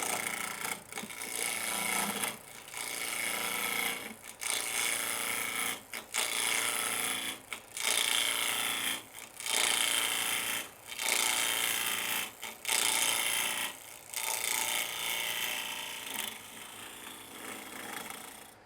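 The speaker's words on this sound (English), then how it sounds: "Just going to do this with my 1-inch skew chisel." Wood being rough-turned on a lathe with a 1-inch skew chisel peeling the surface, a steady close hissing shave broken by short pauses as the tool lifts and returns.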